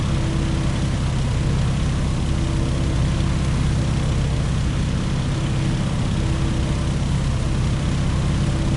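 Boeing Stearman PT-17 open-cockpit biplane in the Microsoft Flight video game: a loud, steady propeller engine drone holds unbroken throughout, with no talking.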